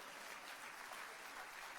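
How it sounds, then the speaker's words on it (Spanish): Dense, steady applause fills a church during a Sunday service, a full congregation clapping in an unbroken wash of sound with no pauses. "Dele un aplauso al Señor."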